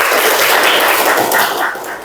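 A classroom audience of students claps their hands together in a dense burst of applause, loud and close, lasting about two seconds before tapering slightly.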